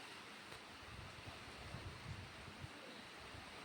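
Rain pouring down steadily after strong winds, with water running up to a doorway, forms a constant soft hiss that holds even and unbroken, with no voices over it.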